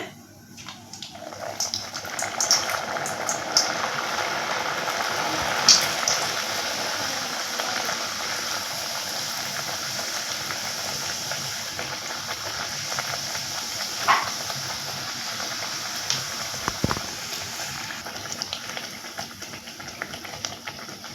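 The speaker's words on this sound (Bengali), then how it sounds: "এখন আমি ভেজে নেব আর তেলটা আগের থেকে বসিয়ে দিয়েছি তেলটা গরম হয়ে গেছে" Rolled luchi flatbread deep-frying in hot oil for a festive Ashtami meal, giving a constant loud hiss and bubbling sizzle throughout with a few sharper crackles and clinks.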